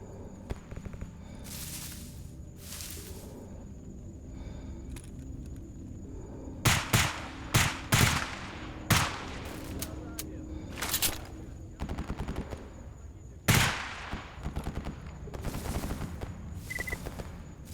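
Gunfire in S.T.A.L.K.E.R. Anomaly comes as scattered loud shots and short bursts, with sharp reports at irregular intervals and quieter background rumble and sound between them.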